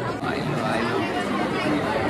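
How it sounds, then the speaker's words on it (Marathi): Dense murmur of a big crowd lined up at Ekvira temple, many voices blending into a continuous nearby babble that holds level throughout. "खूप गर्दी आहे."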